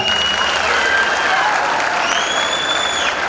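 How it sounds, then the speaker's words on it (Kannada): A crowd at a college cultural festival in Sindhanur claps loudly and continuously, dense sustained applause with some whistles rising over it. "ಚಪ್ಪಾಳೆ ಹೊಡಿತೀರಾ?"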